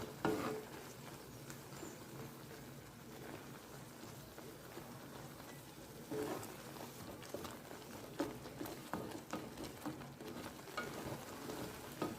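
Onion paste fries in a pan with salt and turmeric while being stirred, for a Maga fish pulusu, giving a steady broadband sizzle with occasional louder scraping bursts, close up and with no talk.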